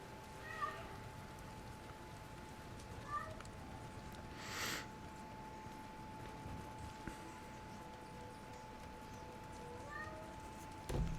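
A cat meows faintly a few times at a distance, short, spaced cries over a quiet indoor background.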